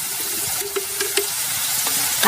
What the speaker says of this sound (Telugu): ఇప్పుడు వీటిని బాగా వేగనిద్దాం